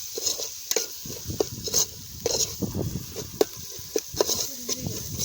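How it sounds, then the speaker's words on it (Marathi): Onions sautéing in a pan for crab biryani, heard close with repeated stirring scrapes and clinks over a continuous soft sizzle. "हा, आता मांदा टाकवला. हे चांगलं परतू."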